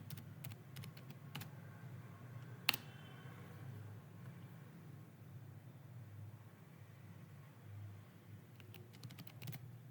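Keyboard typing while writing code on a computer, quiet clusters of key clicks at the start and end over a low steady hum, with one sharper click near the three-second mark.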